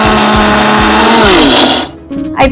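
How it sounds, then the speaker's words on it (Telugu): A mixer grinder grinds soaked lentils into a smooth paste, a loud close steady motor whine that winds down and stops, followed by a short restart burst. "పప్పుల్ని మెత్తగా మనం మిక్సీ పట్టేసుకుందాం"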